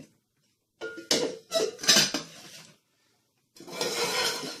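A nested two-piece camping cook pot set with one shared lid is handled up close, giving clattering metallic knocks and scrapes, a short pause, then a steady rubbing clatter.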